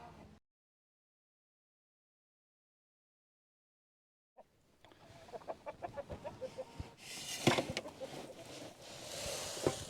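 After a few seconds of near silence, chickens in a chicken hut start clucking and squawking, growing from scattered calls into a busy, louder flock chatter.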